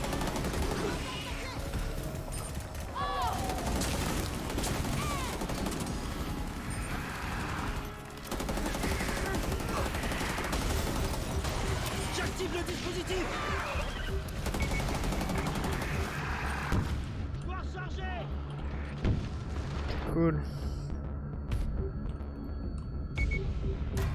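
Gunfire in the video game Rainbow Six Extraction during a nightmare fog event, sustained rapid bursts of automatic shots with explosive cracks, loud and dense across the stretch, with a voice talking over the shooting.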